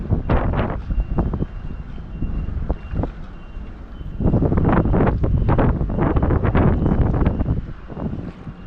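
Wind buffets the microphone in heavy, rumbling gusts on a shore with strong waves, strengthening in the second half, with no voices.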